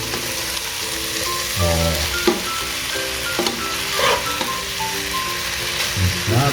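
Pancit batil patong noodles sizzle loudly in a hot pan while being stirred, a steady close frying hiss broken by repeated scraping strokes of a utensil.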